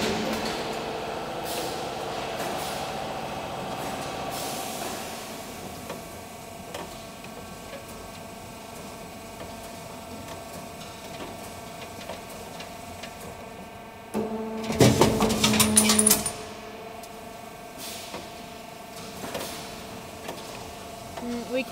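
A trailer mudguard fender making machine with a punch and a two-sided roller for the steel runs with a steady mechanical drone and regular ticking, then a louder clattering burst for a couple of seconds before it settles back.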